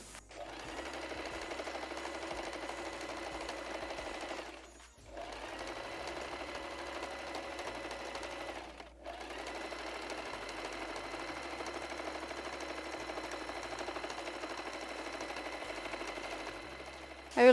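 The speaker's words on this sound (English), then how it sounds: "I'll sew in the edges to neaten up the strap" A sewing machine stitches along folded fabric edges while a strap is being made, running in a close, steady whirring hum with two brief pauses between long continuous runs and no talk.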